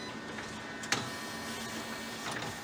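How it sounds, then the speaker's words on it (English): A Konica Minolta BizHub copy machine running as it scans and prints copies: a steady mechanical hum with a short clack near the start and light ticking, close by and with no talk. "The original will be scanned, and the copy machine will start, and the copies will come out here on the left side."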